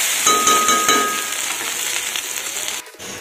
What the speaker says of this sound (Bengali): এই দেখো ঢেঁড়স আলু ভাজাটা কিন্তু আমার হয়ে গেছে